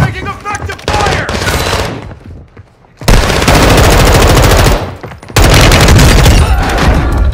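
Dense bursts of automatic gunfire in a first-person shooter match, heavy firing from an M4 rifle mixed with booming impacts, cutting out briefly around the middle before resuming loud and sustained to the end.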